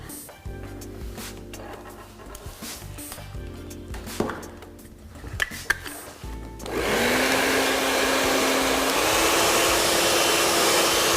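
Clinks and handling noises from styling tools come first, then a hair dryer switches on and blows steadily at close range until the end while short graduated-cut hair is dried forward.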